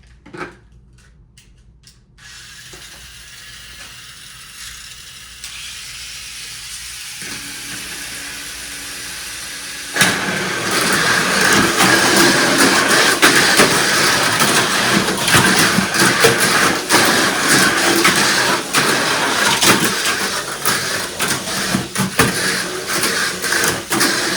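Toy race cars on MA and AR chassis with 4:1 and 3.5:1 gear ratios start with a few clicks and a soft motor whir, then burst into a loud, continuous high-pitched buzzing rattle as they run down the track.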